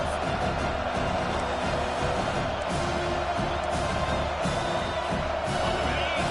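Home crowd at a college football game cheers steadily through a third-down defensive stand, a dense, sustained roar of many voices that holds at a constant level for the whole stretch.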